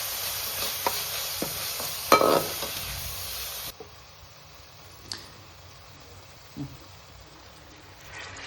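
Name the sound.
stirring turmeric into hot oil with onions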